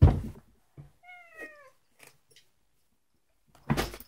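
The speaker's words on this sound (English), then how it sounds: "Oh, my cat wanted to jump up." A pet cat gives one clear, drawn-out meow indoors in a quiet room. Soft thumps come before and after it, and a louder bump at the end suggests the cat jumping up.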